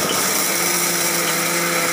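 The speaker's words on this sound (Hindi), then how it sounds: "अब इसको मिक्सी में पीस लूँगी।" A mixer grinder grinds vada pav chutney, whirring loudly and continuously at high speed, a steady motor roar with a bright rattling edge.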